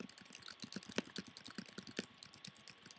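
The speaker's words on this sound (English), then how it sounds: "then I just type it" Quiet keyboard typing in a rapid, irregular run of light key clicks with a few louder strokes, alone with no talk.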